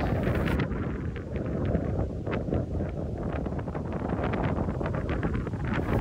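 Strong wind with rain at a roadside view deck at KM77 in Marilaque, Infanta, Quezon, roaring continuously and loudly across the microphone in heavy, unbroken gusts.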